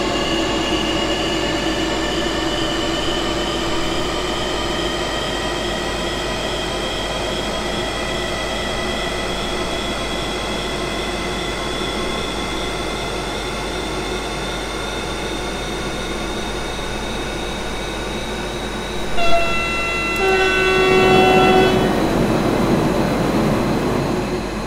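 A Desiro ML electric multiple unit in Train Simulator 2016 pulling away at full throttle, its motors whining in steadily rising tones for a long stretch, then a louder shift and a rush of rolling noise near the end.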